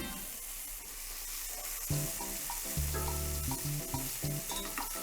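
Finely diced red pepper and minced garlic soften in a hot pan with a quiet sizzle that grows louder and busier after a couple of seconds, with stirring scrapes on top.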